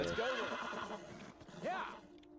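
Horse neighing in the video game Beyond: Two Souls, two distinct whinnies with rising and falling pitch amid faint game ambience and light hoof sounds, with speech nearby.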